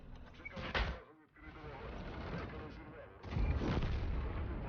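Artillery fire in the World of Tanks video game, with booming shots and rumbling battle noise under someone talking.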